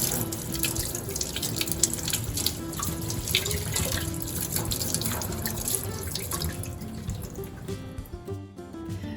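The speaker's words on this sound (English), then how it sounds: "You want to be sure to peel the very bottom leaves off of the green onions and just wash the whole stalk." A tap runs in a steady, close rush while green onions are rinsed beneath it, with the stream splashing unevenly and easing slightly near the end, no voices.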